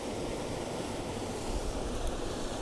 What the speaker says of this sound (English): That waterfall is flowing fast.